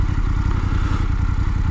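A BMW F850GS adventure motorcycle's engine runs loud and close, a steady throbbing mid-pitched pulse with a fast even beat and some mechanical clatter.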